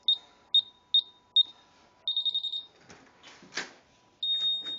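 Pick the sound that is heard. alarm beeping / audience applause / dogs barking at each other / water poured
alarm beeping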